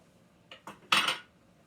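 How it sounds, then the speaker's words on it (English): Dishes and cutlery clatter as items are cleared off a home kitchen counter: three quick, close clinking bursts, the last the loudest, then quiet. "I'm going to clear my counter off here."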